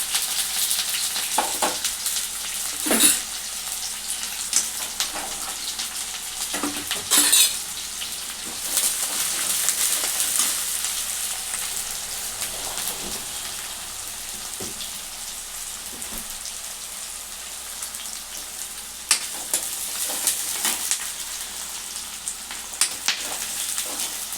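Onion and green chillies fry in hot oil in a pan, a steady close sizzle with occasional stirring scrapes and pops throughout.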